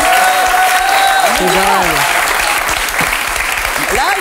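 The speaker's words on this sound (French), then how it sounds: "On vous applaudit, c'est ça." A French television talk-show studio audience applauds loudly and steadily, dense clapping filling the whole stretch while voices speak over it.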